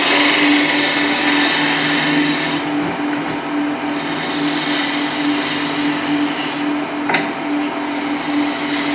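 Wood is carved off a wooden egg for a smoking snowman on a spinning lathe, a steady close rasping and rubbing scrape over a constant motor hum, unbroken and fairly loud, with no voices.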